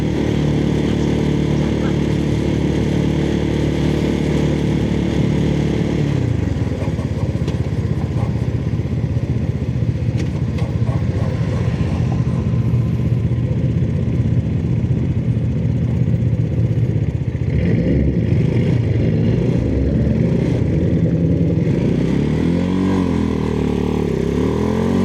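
Engine of a Kawasaki clone motorcycle rides through traffic, a loud continuous drone close to the rider that rises in pitch as it accelerates, with wind rush and a voice talking throughout.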